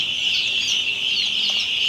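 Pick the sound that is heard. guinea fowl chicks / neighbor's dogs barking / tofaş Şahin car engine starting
guinea fowl chicks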